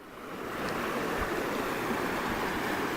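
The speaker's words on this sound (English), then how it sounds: "So here's our tiny little creek." Small creek swollen by flooding after heavy rain, a steady broadband rush of flowing water running close and continuous throughout, with no voices.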